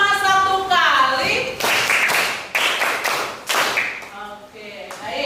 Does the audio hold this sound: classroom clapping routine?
yes